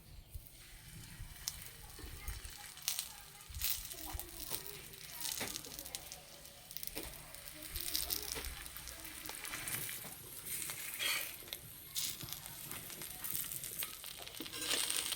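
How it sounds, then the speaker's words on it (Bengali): A folded roti fries in a little oil in a pan, producing a continuous crackling sizzle with occasional light scrapes and patters that swell and ease over time. "আর তেল বেশি লাগে না, অল্প তেলেই ভাজা হয়ে যায়"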